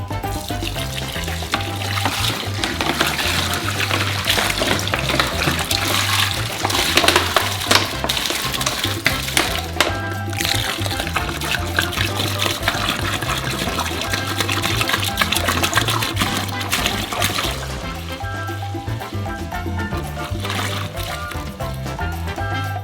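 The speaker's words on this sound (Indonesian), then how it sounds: "pertama-tama tuangkan setengah air dari semua air" Water poured steadily into a large basin, about half of 70 liters, for mixing a giant homemade Kinder Surprise. It makes a continuous loud splashing gush with a brief change partway through and few pauses.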